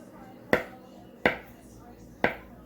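A knife slices through keto butter cookie dough in three sharp, evenly spaced chops on a cutting surface, close and clear with no talking.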